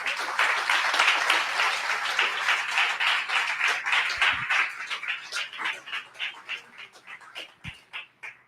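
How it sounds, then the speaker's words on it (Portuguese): A church congregation applauds during a sermon, dense clapping at first that thins into scattered, fading claps. "Dê um aplauso a Jesus."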